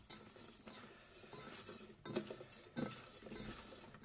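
Salted eggplant cubes stirred in a bowl, with a steady clatter of utensil against dish and soft patter of the pieces, louder scrapes near the end, no talking.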